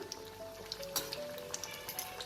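Aloo chop, Bengali potato snacks, frying in hot oil, giving a steady soft sizzle with scattered small pops and crackles throughout, fairly quiet and with no voices.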